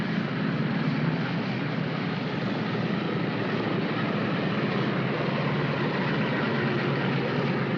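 An airplane taxiing onto a runway at a 1950s Berlin Airlift air base gives a loud, steady engine and propeller drone, continuous and close throughout.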